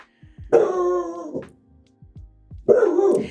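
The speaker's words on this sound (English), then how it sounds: "Oh, my dog is barking." A dog gives two drawn-out, yowling barks close by, separated by a short pause with faint movement noises.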